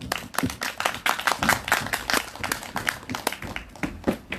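An audience at a candlelight rally in Seongju claps together in a lively burst of applause, many hands beating rapidly and fairly close, with a brief voice at the end.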